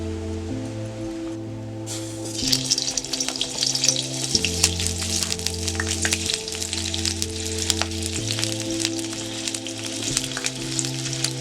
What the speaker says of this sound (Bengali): আলুগুলো ভেজে নেব।